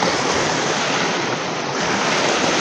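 Strong waves churn on the lake at Talim Island in Binangonan, Rizal, making a dense, steady wash of broadband noise with wind buffeting the microphone and no voices.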